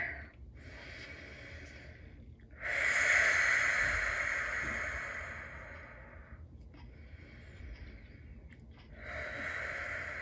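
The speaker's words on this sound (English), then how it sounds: "take 3 deep breaths." Several slow, deep breaths during a relaxing facial massage, each a soft airy inhale and exhale, with a long swelling breath in the middle and quieter ones at either side, close and alone without talk.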